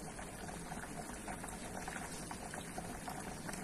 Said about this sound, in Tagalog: Kuluan lang natin ng 1 minute.